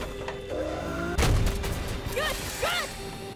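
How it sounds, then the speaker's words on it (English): A railgun shot in Battlefield 2042 destroying a Wildcat vehicle, a sharp heavy impact crack amid gunfire, followed by faint whooshing and distant shots in a short burst of combat. "here's me killing a wildcat that's spawn camping with a wall-to-wall shot"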